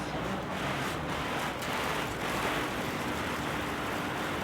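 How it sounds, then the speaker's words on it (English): A futuristic water fountain in a park in Tashkent, Uzbekistan, gives a continuous, fairly loud rushing splash of falling water, steady and unbroken, with no voices over it. "A very futuristic looking water fountain, or you could say rain rectangle of sorts."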